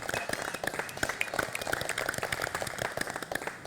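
Studio audience applauding for a contestant named Twinkle on a competition show, many hands clapping in a brisk, uneven patter, moderately close and continuous.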